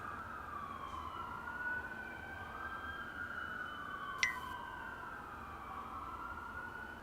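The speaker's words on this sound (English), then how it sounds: "The sirens." Wailing sirens rise and fall in overlapping sweeps, sounding moderately distant, with a brief sharp click partway through.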